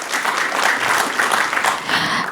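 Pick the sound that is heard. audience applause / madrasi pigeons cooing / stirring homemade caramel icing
audience applause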